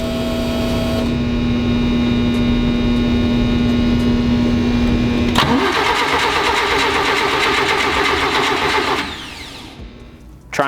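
An engine cranks with a steady whine for several seconds, then catches and fires into a rough, loud idle that runs for a few seconds before shutting off; no voices.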